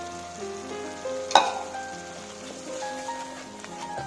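Almond and sesame paste frying in oil in a pan, a steady soft sizzle with one sharper crackle burst near the start, close and continuous, with no voices.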